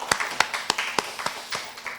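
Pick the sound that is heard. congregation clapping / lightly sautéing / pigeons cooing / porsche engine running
congregation clapping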